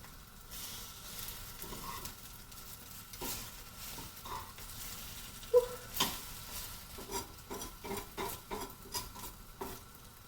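Egg French toast frying in a pan after being flipped, a soft steady sizzle with a run of light scraping and tapping from a spatula in the second half.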